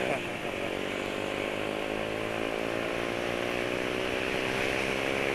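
A motorcycle engine idles smoothly with no knocking, a steady, even buzzing drone that stays at the same level throughout, heard close.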